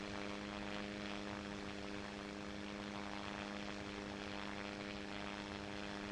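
A propeller airplane engine in a flight video game drones steadily at partial throttle, a constant even hum with no voices over it.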